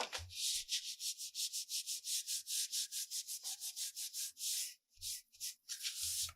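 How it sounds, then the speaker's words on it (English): Excess glue being wiped off a paper file folder with quick, repeated rubbing strokes, close and steady at first, then broken by a short pause before a few more wipes. "wipe all the excess glue out of there."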